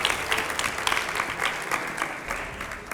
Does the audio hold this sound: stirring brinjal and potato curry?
no